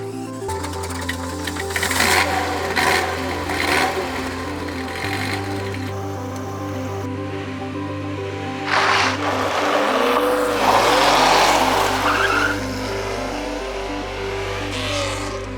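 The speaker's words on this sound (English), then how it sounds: "I drive a 1977 Ferrari 308 GTB." A 1977 Ferrari 308 GTB on the move gives a steady, close engine drone whose pitch shifts in clear steps as it changes gear, with a rising surge near the end; no one speaks.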